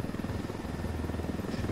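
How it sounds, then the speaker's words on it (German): A helicopter flies in the video game Ghost Recon Wildlands, giving a steady, fairly quiet rotor thump and engine drone with an even rhythm and no talking. "das ist kein Wasserheli, Hubschrauber"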